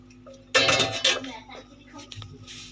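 Beef keema yakhni pulao is dished out from a cooking pot, giving a couple of close metallic clinks and scrapes of a spoon against the pot, followed by softer handling sounds.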